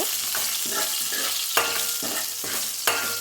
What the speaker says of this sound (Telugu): అవి కొంచెం వేగిన తర్వాత వాళ్ళు కొంచెం ఫ్రై అవ్వాలి కలుపుతూ ఉండండి